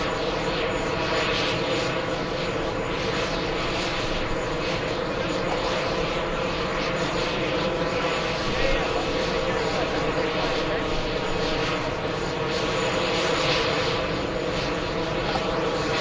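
A Lufthansa jet airliner at JFK Airport produces a loud continuous engine roar with layered whining tones, steady throughout, while a person talks over it.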